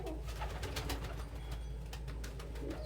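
Pigeons coo during a training session, soft throaty repeated coos close by over a steady low background hum, with no talk.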